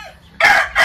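A fighting rooster crows in one loud, close call that breaks briefly and resumes, following a faint lead-in note.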